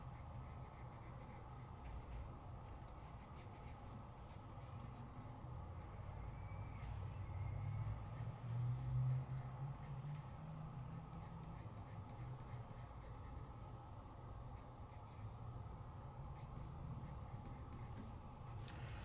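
A gray pencil traces along an outline on paper in a craft class, giving a soft, continuous scratchy rubbing that goes on steadily at close range, faint and quiet throughout.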